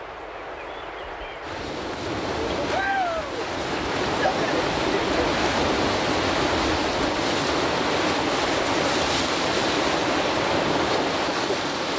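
A river rushes through a canyon gorge on a rafting trip, a broad steady roar of churning water that starts quieter and then swells and stays loud, with a short voice fragment early on.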